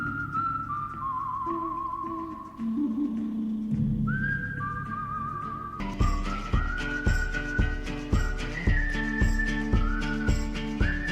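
Melodic whistling carries a tune over a western-style backing, joined halfway by a steady, driving beat of stomps and claps.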